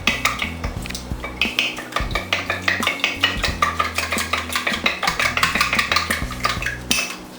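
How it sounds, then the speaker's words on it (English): Eggs whisked in a bowl for elephant ears, heard as a fast, steady clatter of a utensil striking the bowl, loud and close. The clatter runs the whole way with no talk. "we're going to beat the eggs right in this bowl"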